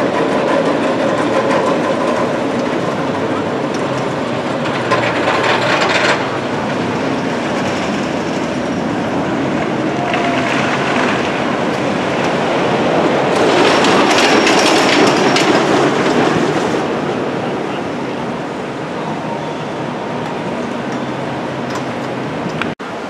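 Skyforce amusement ride running at Blackpool Pleasure Beach: a loud, continuous mechanical rumble and rush with swelling surges of noise, heard up close with no talking.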